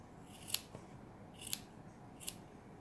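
Scissors snip the yarn ends of a crocheted doll scarf, three quiet, crisp cuts about a second apart, close and alone.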